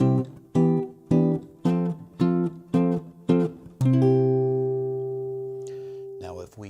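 Chords of a 1-4-1 progression with a 3 minor chord substituted, played as repeated rhythmic chord strikes, then a sustained ringing chord that fades, close and alone.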